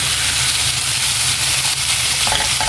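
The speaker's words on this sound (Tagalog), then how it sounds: "igisa-gisa lang natin siya hanggang sa labas yung mantika niya" Pork belly sautés in its own rendered fat in a pan for braised pork, a loud, close, continuous sizzle with stirring underneath, even and unbroken, with no voices.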